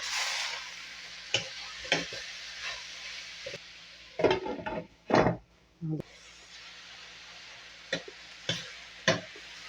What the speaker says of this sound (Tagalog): Gisa na tayo guys. Lagyan na natin guys to ampalaya.